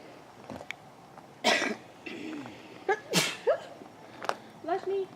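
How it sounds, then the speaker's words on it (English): A person sneezes sharply and close by during an outdoor park investigation near a bridge. Several other short bursts of breath and coughing-like sounds mix with voices talking. "That's a sneeze."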